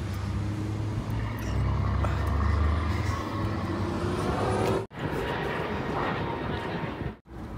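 An airplane flies overhead in Brampton, a broad low roar that swells and holds steady for several seconds, then cuts out in brief drops, with faint voices in the background.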